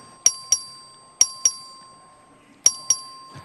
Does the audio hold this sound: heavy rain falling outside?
no